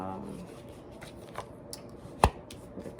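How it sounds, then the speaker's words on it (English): A deck of tarot cards is shuffled close by in soft, rapid riffling rustles, with one sharper snap of cards near the end. "I don't know why I just shuffled these again"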